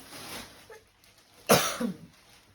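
One sharp, close cough bursts out after a short quiet stretch, followed by a fainter throat sound.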